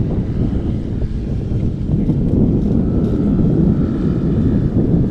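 Propeller and engine of a restored 2022 Piper PA-12 in the unlimited class at a Rocky Mountain STOL competition in Pinedale, Wyoming, a steady loud drone with wind buffeting throughout.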